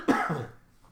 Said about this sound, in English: So do you feel like you have to cough up right now?